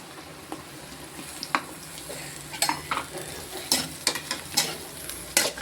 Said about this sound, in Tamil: இப்போ வந்து நம்ம கேரட்டை போடுவோம்.